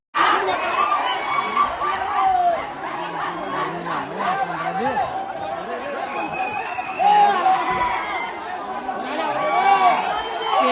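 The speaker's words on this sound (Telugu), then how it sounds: "వాళ్ళ కేకలు అరుపులకి ఆ పులే భయపడిపోయి వెళ్ళిపోతుంది" Crowd of villagers shouting and yelling at a tiger that has come among them, a dense continuous roar of overlapping voices with occasional louder cries and a dog barking faintly.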